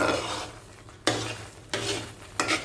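Jackfruit halva cooking in ghee in a pan, stirred with a utensil that makes a few sharp scraping sweeps against the metal over a faint background sizzle, with quiet gaps between strokes.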